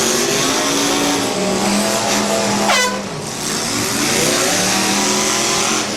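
Demolition derby cars at a Portage County Tuesday night event roar and rev continuously, with a short sweeping whine and a horn-like tone mid-way, loud and close throughout with no talk.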